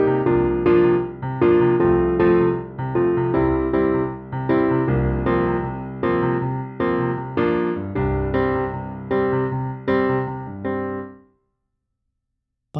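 Solo piano plays a song as written, a clear rhythmic pattern of repeated chords and melody notes in even phrases, close and alone, ending with a sustained chord that fades into silence.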